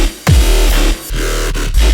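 A thick, heavy Serum-made dubstep wobble bass loud and up front, pulsing in a few rhythmic, gritty bursts with deep low end, and no voices over it.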